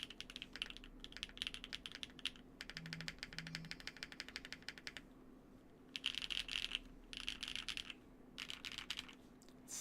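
Typing on a NEO65 mechanical keyboard rebuilt from Hall effect back to mechanical switches: rapid, crisp keystroke clacks in bursts with short pauses, close-up and fairly quiet, over a faint steady hum.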